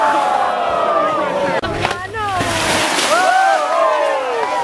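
A skier slams into the slush pond at a Bristol Mountain pond skim, with a broad watery splash and rush under loud crowd cheering and an announcer's voice.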